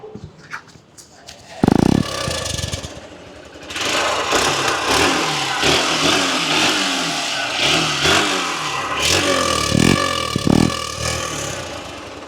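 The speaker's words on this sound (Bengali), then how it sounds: "এবার আমরা ফাইনালি সাউন্ডটা শোনার চেষ্টা করছি" A Hero Hunk 150 Xtec motorcycle engine runs and revs up several times at close range in a showroom setting, with voices talking over the engine.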